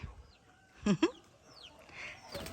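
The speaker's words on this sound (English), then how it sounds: "And Guinea Fowl has a lot to say." A guinea fowl on a small farm gives two quick, harsh calls in the middle, fairly loud against a quiet outdoor background with faint distant bird chirps.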